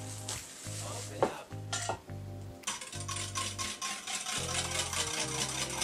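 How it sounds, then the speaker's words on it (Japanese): A spoon stirs microwave-warmed eggnog in a cup, knocking and scraping against the sides in a quick, irregular rhythm, with one brief louder clink, all close and fairly quiet with no talking. "はい、温まったので混ぜていきます。"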